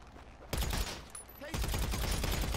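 Rapid, loud bursts of gunfire in the video game GTA, erupting suddenly after a quiet start and continuing as a dense fusillade with a brief gap before a second sustained volley.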